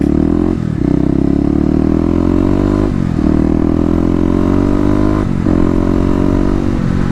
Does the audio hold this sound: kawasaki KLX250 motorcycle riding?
yes